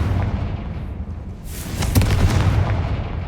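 Confringo blasting spell bursts in Hogwarts Legacy with a sharp, loud crack followed by a rumbling boom and debris rattle, set against steady game ambience.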